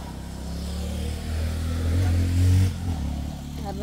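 A motorcycle engine starts and revs up, its low drone swelling to a louder peak before dropping back, close by, with people talking over it.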